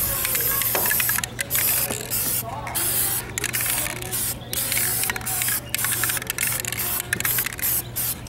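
Spray paint hisses onto a robot project in repeated bursts, each a loud, close rush of air separated by short pauses.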